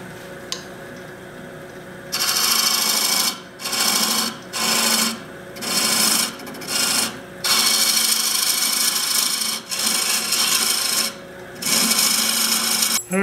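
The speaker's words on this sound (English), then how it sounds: "now I'm going to part this captured ring free with my homemade Allen wrench captured ring tool" A homemade Allen wrench captured-ring tool rasps against spinning wood on a lathe, parting a captured ring from a goblet stem, in repeated scraping bursts with short pauses, loud and close.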